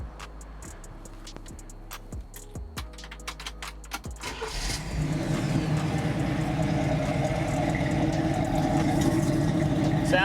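A 1968 Camaro SS engine cranks and catches after a few ticking clicks, then settles into a loud, steady rumbling V8 idle.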